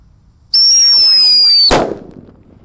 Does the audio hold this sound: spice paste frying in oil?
no